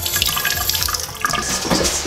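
Tap water runs steadily from a faucet to wet a paper towel, a close, continuous splashing gush with no talking.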